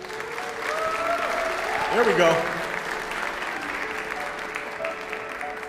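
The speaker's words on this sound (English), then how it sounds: "give the Hill Singers another round of applause" Audience applause for the Hill Singers at a 2022 carol night, steady clapping from a crowd heard throughout, with someone speaking briefly over it midway.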